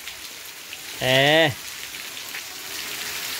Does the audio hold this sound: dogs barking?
no